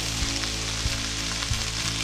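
Shredded cabbage sizzling steadily in a hot pan with vinegar as it wilts for sauerkraut, a constant frying hiss with a few soft stirring knocks.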